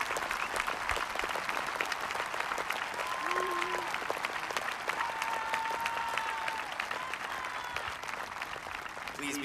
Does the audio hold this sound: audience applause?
yes